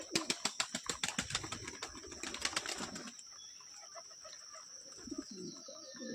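Pigeons outside the loft door beat their wings in a fast, rhythmic flutter for several seconds, then settle into quieter, low cooing nearby.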